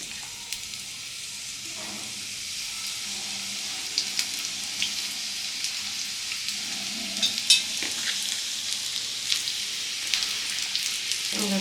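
Onions frying for biryani hiss in a steady, close sizzle that holds for the whole stretch, with light stirring clicks and brief faint voices now and then.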